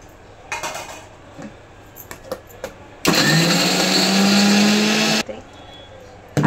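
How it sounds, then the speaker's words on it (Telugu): A kitchen mixer grinder blending chopped ginger, garlic and coriander runs in one loud, steady whirring burst of about two seconds, preceded by scattered clinks of utensils and faint background noise. "అన్నీ కలిపి మిక్సీలో వేసి మిక్సీ పట్టేయండి"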